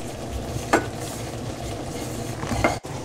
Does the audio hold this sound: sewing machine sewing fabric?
no